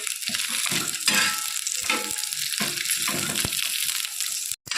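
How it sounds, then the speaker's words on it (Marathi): Green chilies fry in a pan with a continuous close hiss and sizzle, broken by occasional soft stirring knocks, with no talking. "मिरच्या आपल्या चांगल्या परतून झाल्यात"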